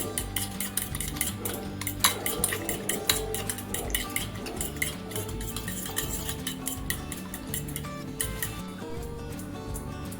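Eggs are whisked in a bowl for a rolled Japanese tamagoyaki omelette, with a utensil ticking rapidly and continuously against the bowl. The beating is steady and close, with no talking.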